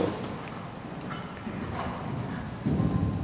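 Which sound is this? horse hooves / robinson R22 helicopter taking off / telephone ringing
horse hooves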